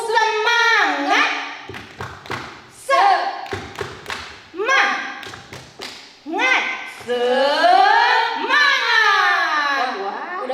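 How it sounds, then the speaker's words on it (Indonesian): Children at a Sunday school service of an HKBP church in West Bandung do a rhythmic spirit clapping chant, tepuk semangat, with bursts of sharp claps and thumps between loud young voices chanting together, close and lively throughout. "Kita cobain Tepuk Kak. semangat lah biar adik-adik di rumah boleh semangat ya Kak."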